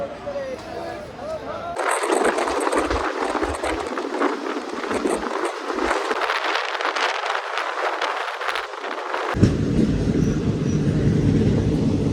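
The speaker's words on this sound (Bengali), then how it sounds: "এবারে আমাদের ট্রেন এখন প্রবেশ করলো রেজিনগর রেলওয়ে স্টেশনে" The 53092 Azimganj–Krishnanagar passenger train rumbles and clatters along the rails with a dense, roaring rush; a voice talks over it, and the noise shifts near the end as the train enters Rejinagar station.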